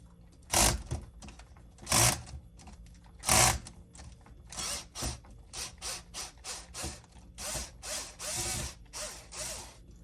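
A ratchet wrench loosens a Loctite-secured bolt: three heavy strained clicks first, then a quicker run of repeated ratcheting strokes, close and clear with no talk.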